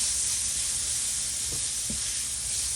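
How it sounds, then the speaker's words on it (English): Vegetables sautéing in a pan for Haitian Karòt Blanchi, a loud, steady bright sizzle filling the whole stretch, with two soft knocks of a utensil against the pan near the end and no talking. "I'm going to allow this to saute"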